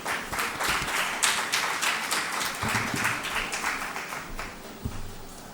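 An audience gives sustained, dense applause to welcome Nick Hurd, a Member of Parliament and government minister, at the 2023 IIF convening. The clapping is steady and close, running through the whole stretch without speech.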